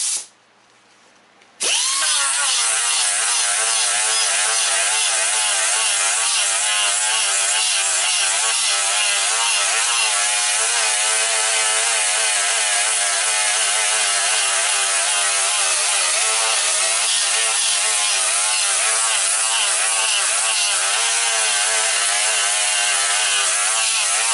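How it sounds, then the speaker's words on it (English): Sanding with sandpaper makes a loud, continuous abrasive grinding with a buzzing, drill-like drone that starts abruptly after a short quiet opening and runs on steadily. "Back to the sandpaper."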